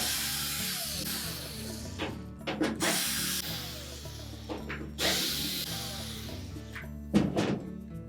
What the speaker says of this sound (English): Simply remove the retaining screws.